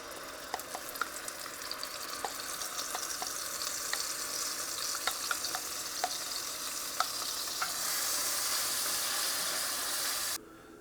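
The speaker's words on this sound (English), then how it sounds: "Now into the hot lard, I'm going to put 1/4 cup of the sofrito that I made earlier." Sofrito sizzles and fries steadily in hot melted lard, a continuous crackling hiss with small pops and stirring, growing a bit louder toward the end before cutting off abruptly.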